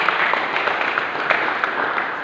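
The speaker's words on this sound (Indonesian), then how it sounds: "Tepuk tangan buat Tuhan Yesus Kristus." A church congregation claps in praise during a sermon, a short burst of dense, fairly close applause that holds steady throughout without speech.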